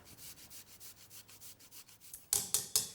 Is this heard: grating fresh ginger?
yes